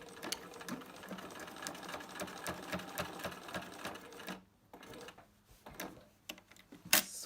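A sewing machine back stitches fabric with a fast, steady mechanical chatter. The stitching stops briefly, then starts again in short bursts that end with a sharp click, all close and fairly quiet with no talking.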